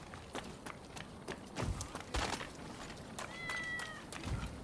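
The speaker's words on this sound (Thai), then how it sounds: "อุ้ยมีแมวด้วยข้างในนี" A cat meows once, briefly and fairly faintly, in the video game Rise of the Ronin, amid soft footsteps and ambient game noise.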